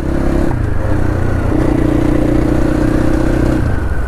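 A dirt bike motorcycle engine runs loud and close, holding a steady rough drone with slight shifts in revs throughout.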